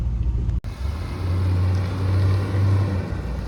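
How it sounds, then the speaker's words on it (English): A Corvette pulling out at a car dealership, its engine giving a steady low rumble after a brief sharp cutoff near the start, holding a continuous, fairly loud drone as it is driven away. "Got David taking the Corvette out."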